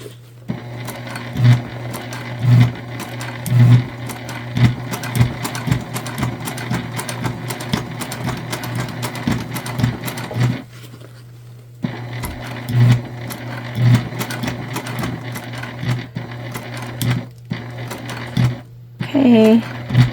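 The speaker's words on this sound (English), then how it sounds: "we're just going to back stitch" Sewing machine back stitching a fabric gift bag, with rapid mechanical whirring bursts broken by short pauses and someone talking over it.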